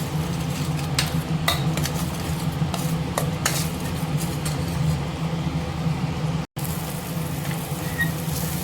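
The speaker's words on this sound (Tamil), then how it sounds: "இது கைவிடாமல் கிளறிகிட்டே இருக்கணும், ஏன்னா நம்மளுக்கு அடி பிடிக்கும்" A spoon scrapes and stirs ground masala with ginger-garlic paste frying in a pan, with a steady low sizzle under intermittent metallic clinks, close and continuous apart from one brief cut.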